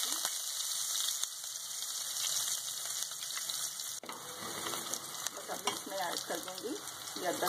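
Onions tipped into hot oil with cumin seeds give a dense, steady sizzle that holds loud throughout, with a brief break and louder crackle partway through as they go in.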